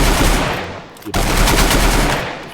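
Rapid automatic gunfire in the mobile battle-royale game Free Fire, loud, dense bursts that break off briefly and then resume, with no talk in the clip.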